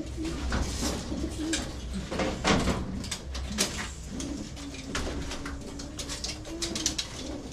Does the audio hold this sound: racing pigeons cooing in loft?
yes